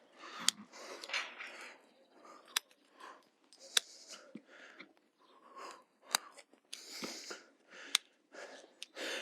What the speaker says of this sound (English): So what you're doing with foot trimming is you're taking off any excess horn growth.